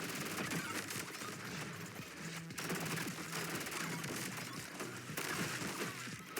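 SMG gunfire in the video game ODDCORE rattles in dense, continuous bursts, loud and close, with crashing impact effects layered over the shots throughout.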